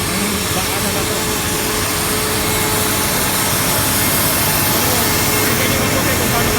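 Truck engine laboring up a very steep road at Shotgun in San Mateo, Rizal, a loud steady low drone with broadband road and wind rush throughout, close and continuous.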